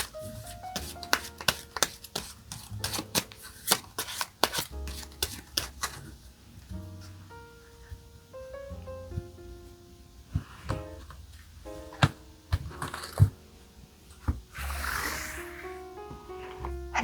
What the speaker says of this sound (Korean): 이 사람과 관련된 카드 한 장 뽑아보도록 하겠습니다.